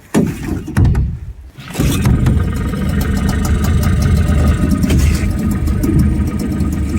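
A two-stroke outboard motor on a jon boat cranks with a few rough pulls, then catches around two seconds in and settles into a loud, steady buzzing run, close up.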